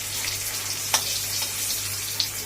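Pointed gourd fries in hot oil with a soft, steady sizzle, punctuated by a couple of brief sharp pops, under a low constant hum from the stove.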